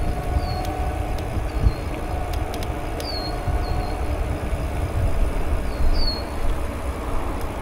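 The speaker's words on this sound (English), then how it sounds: "Occasionally, you'll get to see a GO train go by." A Toronto GO Transit commuter train rumbles past at a steady, moderate distance, a continuous low roar, while a few birds chirp high above it.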